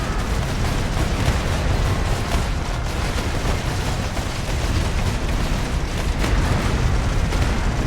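Heavy artillery fire and explosions from a large 8v8 strategy war game battle, a dense, continuous wall of booms and rumbling blasts at steady loudness with no pause.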